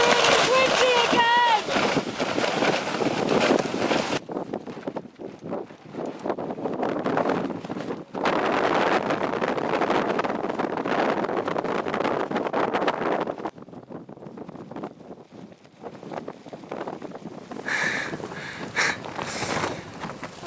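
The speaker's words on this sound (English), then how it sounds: "We're back up at Camp 1. Guess what? It's really, really windy again!" Strong gusting wind buffets the microphone at Camp 1 high on a snowy mountain, roaring in waves with brief lulls. A voice talks over parts of it.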